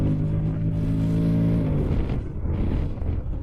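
A 2025 Honda X-ADV adventure scooter under way, its engine note climbing steadily with gear-like harmonics before easing off into a rougher rumble and wind noise.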